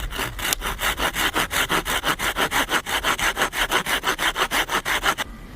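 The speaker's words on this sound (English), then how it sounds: "I'm going to saw it a little bit longer than I normally would have it." A hand saw cuts through a wooden log in quick, regular back-and-forth strokes, close and loud, stopping abruptly at the end.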